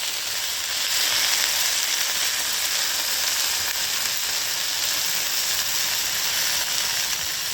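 Okra sizzles steadily as it cooks uncovered in a pan over a wood-fired village stove, a loud, even frying hiss with faint scraping, and no one talks.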